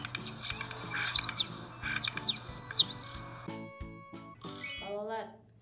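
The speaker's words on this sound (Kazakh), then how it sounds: "starling" Starling calls play during a bird lesson for schoolchildren: a run of bright, repeated whistles and chirps with varied squawky notes over a steady low hum, ending in a few lower warbling phrases.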